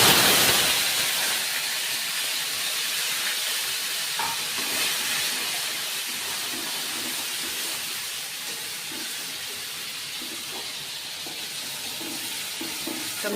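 Tomatoes dropped into hot oil with crackled mustard seeds and asafoetida for a tomato chutney, a loud hissing burst of sizzle that settles into a steady fry with occasional stirring, close and without talk.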